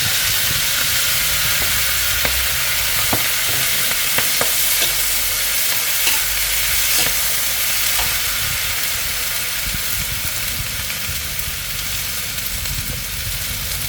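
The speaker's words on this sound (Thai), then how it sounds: "เราก็เจียวกระเทียมให้อมหอมก่อนน ะ คะ แล้วก็คะน้าลงไปผัด" Chinese kale hits a hot pan with fried garlic for a Hong Kong-style stir-fry with squid, shrimp and oyster sauce, giving a loud, continuous hiss with steady sizzling. Occasional scrapes and clicks of stirring come through, with no voices.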